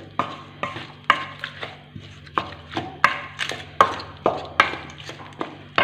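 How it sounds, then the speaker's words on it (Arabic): A spoon stirs and scrapes through vegetables with tomato, red pepper and spices in a pan, giving repeated sharp, close knocks at an irregular, steady pace with a low hum underneath. "نخلطو كاع هنا المكونات نخلطوهم كاع مليح نخلوهم بهذوك التوابل"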